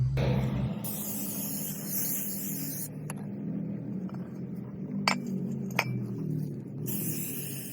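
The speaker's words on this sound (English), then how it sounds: "spray with a brake cleaner, because when they come from factory, they have this cosmoling on there that you wanna take off" Brake cleaner sprayed onto a new factory brake rotor for a Pontiac Grand Prix to strip cosmoline, heard as a broadband hiss in two bursts at the start and end, with faint clinks and handling noises in between.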